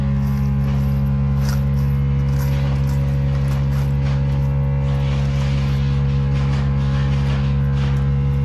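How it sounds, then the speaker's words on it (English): A power drill bores holes in the metal damper of a downdraft vent wall cap, a loud, constant motor whine with a steady hum and a gritty rasp running unbroken throughout. "first what I'm gonna do is I'm gonna drill my holes"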